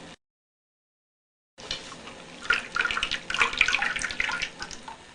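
Oat milk pouring through a stainless steel fine mesh strainer, a steady close liquid splashing and trickling that starts after a brief silence and grows louder toward the end.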